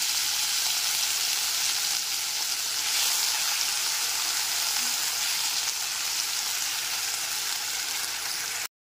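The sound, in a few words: ginger, fennel and green chilli paste frying in spiced oil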